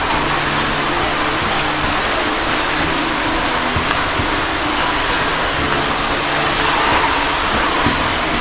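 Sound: cars driving on the road above a storm drain

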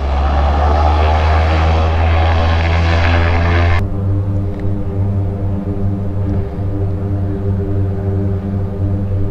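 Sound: seaplane taking off

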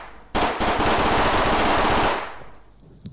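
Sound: gun shooting in a VR video game

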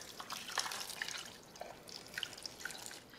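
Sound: water added into an Instant Pot for pozole

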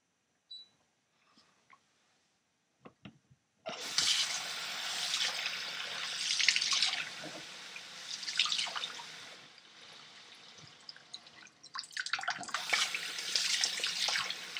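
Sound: hot water pouring into container

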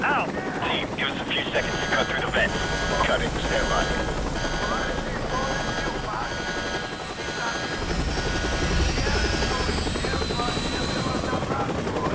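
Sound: helicopter in video game Call of Duty Modern Warfare Remastered

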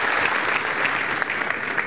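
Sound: studio audience applause

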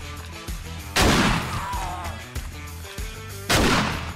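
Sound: shotgun firing in 7 Days To Die video game

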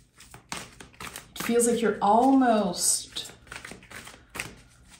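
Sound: shuffling tarot cards

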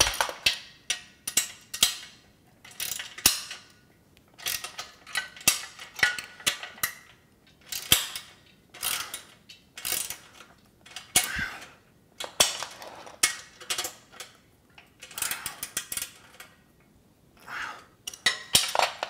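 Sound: ratchet tightening bolts during gym machine assembly

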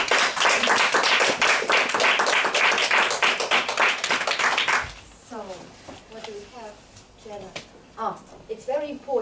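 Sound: applause for meeting participants

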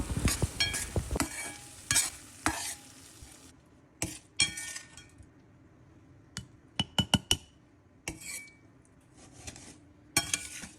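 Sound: stirring cooked brinjal and tomato pieces in a pan

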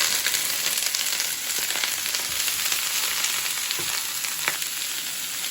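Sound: sautéing string beans with onion in a pan

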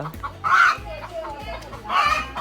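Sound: chicken clucking

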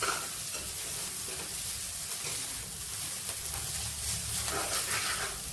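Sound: stirring finger millet vermicelli in a pan

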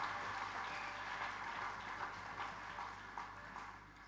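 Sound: congregation applauding in church

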